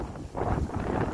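Wind buffets a microphone outdoors, low rough rumbling gusts that swell and dip across about a second, with no other sound standing out.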